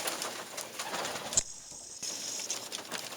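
Pigeons coo in a loft, including a keeper's prized blue birds, their soft repeated calls carrying over a busy background, with a brief lull in the middle and a sharp clap or flutter just before it.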